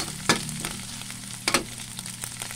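Garlic and ground pork sizzling as they sauté together in a pan, a steady close frying crackle broken by a few sharp scraping stir strokes, with no talk.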